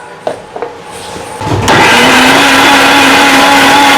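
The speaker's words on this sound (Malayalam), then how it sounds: "ഇനി നമുക്ക് നന്നായിട്ട് അടിച്ചെടുക്കാം" A mixer grinder blending grated coconut with coconut water: a few small knocks, then the motor surges on into a loud, steady whirring roar that continues to the end.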